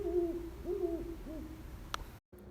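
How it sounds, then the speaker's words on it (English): Great horned owl hooting in the wild on Vancouver Island near a river, three low soft hoots spaced apart, fairly distant and faint, followed by a brief click. "a mated pair of great horned owls"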